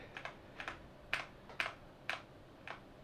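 Keys pressed on an MSI Forge GK600 TKL wireless keyboard: six or so crisp, sharp clicks at roughly half-second intervals, close and clear against a quiet background.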